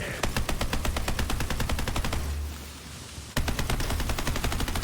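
Rapid automatic fire from a COV weapon in Borderlands 3, a loud, dense rattle of shots that cuts out for about a second, then resumes at full pace, with no voices over it.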